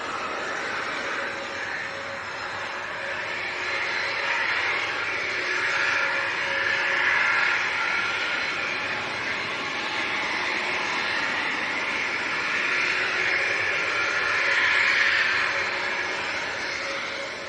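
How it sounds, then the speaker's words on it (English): A French-registered Embraer Phenom business jet taxis out at Leeds Bradford Airport, a steady broadband engine whine and hum holding at moderate level with slight swells throughout, no voices over it. "the French Phenom's just about to taxi out"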